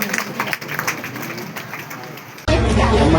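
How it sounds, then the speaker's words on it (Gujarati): At a community women's gathering, a crowd breaks into loud, dense applause for an award-winning guest, starting abruptly after a stretch of amplified talk. "એમને તાળીઓના ગડગડાટથી બતાવી લઈશું"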